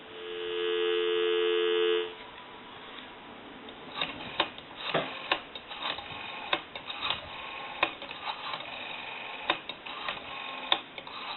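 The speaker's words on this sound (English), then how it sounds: "I'll give you some dial tone." Steady continuous tone from a repaired and converted Princess rotary telephone handset, held for about two seconds at moderate level, followed by clicks and faint handling noise.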